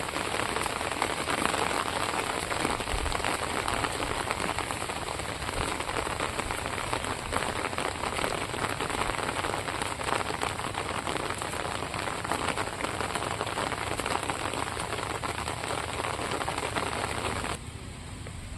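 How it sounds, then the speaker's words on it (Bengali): Steady rain falls over a village, a close, dense patter on surfaces that stays constant before easing slightly at the very end, with no voices. "বৃষ্টি কিন্তু আস্তে আস্তে বাড়ছে।"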